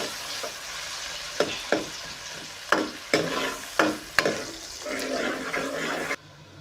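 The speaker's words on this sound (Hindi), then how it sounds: "अब कढ़ाई में ये ऑयल गर्म हो चुका है, इसमें जाएगा ये प्याज। इसको इतना ज़्यादा फ्राई नहीं करना" Onions fry lightly in hot oil in a kadai, a continuous sizzle punctuated by several sharp scraping stirs that come in an uneven rhythm, close and clear, before the sound cuts off.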